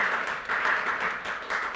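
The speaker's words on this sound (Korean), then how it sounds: "다시 한번 박수 한번." Church congregation clapping during a Korean Wednesday Bible lecture, a short burst of applause that swells and dips in uneven waves, close and fairly loud.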